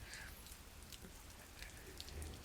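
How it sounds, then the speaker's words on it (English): Looping rain ambience in the game Glory Hounds, a faint, steady patter of scattered raindrops over a low background wash, with no voices. "Also like the rain effect"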